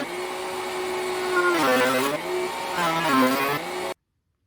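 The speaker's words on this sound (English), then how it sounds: "I'll pull this off of the router bit right at the edge, close to the notch, but not in it" A router with a round-over bit shapes the edge of a wooden Maloof-style rocking chair seat, giving a steady high whine that dips as it cuts, then stops abruptly.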